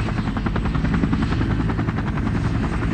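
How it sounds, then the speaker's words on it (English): Loud, steady rhythmic thumping of UH-1 Huey helicopter rotor blades with a dense engine roar, close and continuous throughout. "The UH-1 was also the world's first dedicated attack helicopter."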